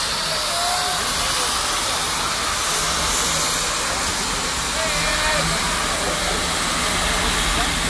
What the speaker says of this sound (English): This is the largest steam locomotive ever.